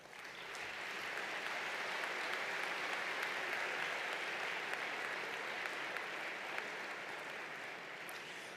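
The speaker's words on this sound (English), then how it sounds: "Please join me in congratulating them with a round of applause." Sustained applause from a large graduation ceremony audience, steady and dense throughout, with no voices standing out.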